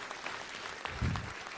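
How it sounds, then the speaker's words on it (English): Brief, quiet applause from an audience at a city council meeting, a soft patter of clapping with a low thump near the end. "give them a round of applause anyway"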